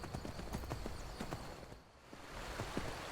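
Horse hooves walking in the video game Skyrim Special Edition, a run of rhythmic clip-clop hoofbeats at moderate volume that briefly dips midway before resuming.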